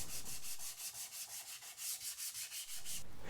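Hand sanding of an epoxy-coated guitar body finish with 220 grit sandpaper: brisk, rhythmic back-and-forth scratchy strokes, about a dozen in quick succession, close and steady with no speech.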